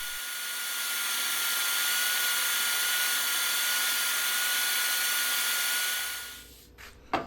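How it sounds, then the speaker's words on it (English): A power saw rips about an eighth of an inch from the bottom of a wooden quilt hanger, a steady loud high whine of blade through wood that winds down at the end, with a few knocks. "Here I'm just ripping about 1/8 from the bottom of the hanger just below the groove"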